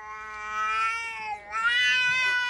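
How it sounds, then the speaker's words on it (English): A cat lets out a long, drawn-out yowl that dips midway and then rises again, loud and close. "These people came home smelling like a cat that their cat absolutely hates."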